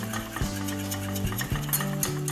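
Softened salted butter being whisked into hot caramel, quiet bubbling and a steady scraping stir, with a few sharp knocks of the whisk against the pan.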